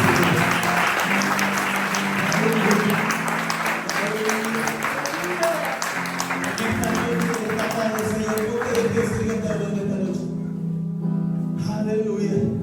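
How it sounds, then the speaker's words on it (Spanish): A church congregation claps loudly and continuously in a worship service, a dense sustained wave of applause with voices and cheers mixed in, thinning out near the end. "¿Por qué no le das un fuerte aplauso a Dios?"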